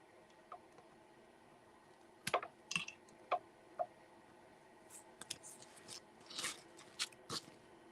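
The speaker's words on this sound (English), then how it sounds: "the thing about trying to get these corners with these scissors" Scissors snip at the corners of a glitter appliqué held in a magnetic embroidery hoop, giving faint, close, irregular clicks and short cutting crunches scattered across a quiet room.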